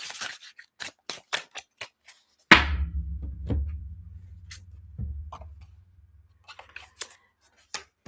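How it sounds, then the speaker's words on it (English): Tarot cards being shuffled by hand, a quick run of crisp riffling snaps followed by a soft thud and muted slides as the deck settles, close and quiet. "One last shuffle here."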